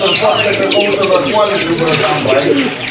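Pigeons cooing and chirping at a pigeon sale, dense and close, heard under continuous talk from people nearby.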